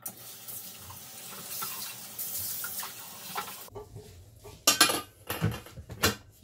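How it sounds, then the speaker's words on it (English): A mixing bowl gets a quick rinse under a running kitchen tap: a steady water rush, then clattering clinks and knocks of the bowl against the sink, close and fairly loud. "So just do a quick rinse."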